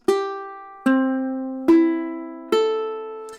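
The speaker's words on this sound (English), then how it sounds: "your ukulele should sound like this" Four bright plucked notes from a tuned ukulele ring out one after another at an even pace, each decaying before the next.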